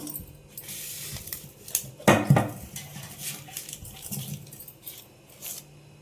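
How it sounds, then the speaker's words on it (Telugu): A pot of boiled taro roots lifted off a kitchen stove, with a cluster of metallic clanks and scrapes around the two-second mark and lighter rattles of cookware before and after, fairly close. "చామగడ్డలు ఉడికాయి, దింపేసుకుంటున్నాను."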